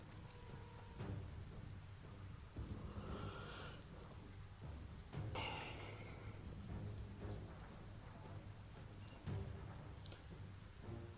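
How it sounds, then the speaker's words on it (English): Steady rain patters in the video game Biomutant, with faint rumbles of thunder and a few sharper cracks scattered through, heard at low volume with no talking. "How is it on fire? It's raining out."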